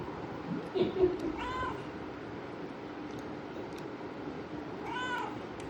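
A cat meows a few times, with a short cry early on and clearer harmonic meows near the middle and end, close and moderately loud over a steady background hiss with faint voices.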